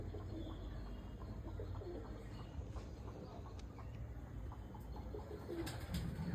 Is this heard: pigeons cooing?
yes